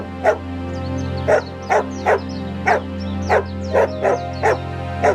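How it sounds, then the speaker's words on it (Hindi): A dog barks loudly and repeatedly in sharp, evenly spaced yaps, about ten barks over a steady low hum in the background. "जोर जोर से भौंकना शुरू कर देता है"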